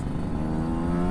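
A Kawasaki Ninja RR 150 two-stroke motorcycle engine revs close by, a loud buzzing rasp with stacked harmonics held steadily through the short burst, no talking over it.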